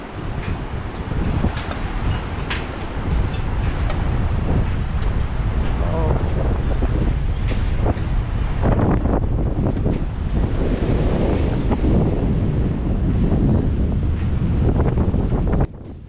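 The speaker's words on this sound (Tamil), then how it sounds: "அவ்வளோ ஃபோர்ஸாக காற்றடிக்குது." Strong gusting mountain wind roars continuously across the microphone on an old suspension bridge on a trek toward Everest, loud and steady throughout, with a few faint clanks and rustles beneath it.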